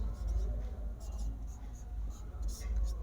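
Chalk or marker writing on a board during a Class 10 maths lesson, soft scratchy strokes in short irregular bursts over a low steady room hum.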